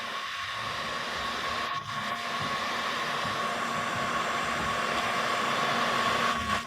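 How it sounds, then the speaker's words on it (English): A heat gun blows steadily as it softens and strips the old protective finish from an old cabinet molding, a continuous airy roar held close and loud throughout with no pauses. "It is just the heat gun going to heat up the surface that has the protection,"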